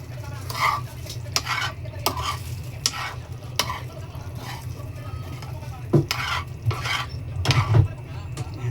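Corned beef and egg stirred and fried in a pan, with repeated scraping strokes of a utensil over a steady low sizzle, close by; a voice speaks briefly and faintly.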